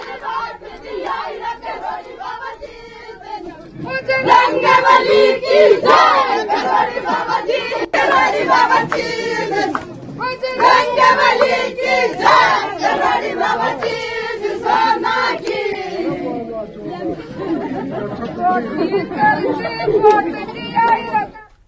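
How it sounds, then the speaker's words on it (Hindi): A crowd of women gathers and chatters loudly at a house during a by-election campaign visit in Lavan, Dausa, Rajasthan. Dense overlapping voices and excited calls build quickly and stay busy to the end. "इसी दौरान वो महिलाओं की भीड़ एकत्रित हो गई"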